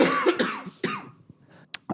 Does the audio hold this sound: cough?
yes